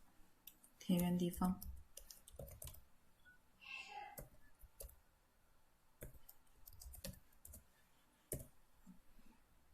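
Computer mouse clicks from someone operating software for a 4-axis CNC hot wire foam cutting machine, with scattered sharp clicks and a short burst, faint and close, alongside quiet talking.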